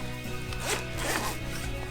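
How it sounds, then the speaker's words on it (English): A zipper on an Osprey Farpoint 70 travel backpack being pulled open in one smooth, continuous run, close and fairly quiet. "take and zip this open."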